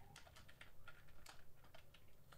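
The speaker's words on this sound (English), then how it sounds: "My typing is bad." Rapid, uneven clicks of a computer keyboard being typed on continuously, quiet and close, with no voices over it.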